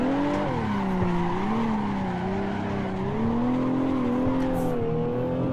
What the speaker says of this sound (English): You actually made the turn drifting.